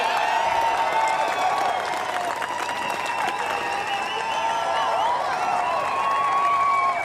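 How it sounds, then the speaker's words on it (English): A motor racing paddock crowd applauds and cheers the British Touring Car champion, a dense, loud, continuous wash of clapping and cheering with whistles throughout. "A huge cheer and a huge smile for Tom Ingram"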